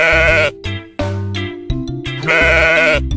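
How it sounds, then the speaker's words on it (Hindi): A sheep bleats loudly and close, several drawn-out wavering calls in a row with short gaps between them, standing alone with no talk. "भ से भेड़"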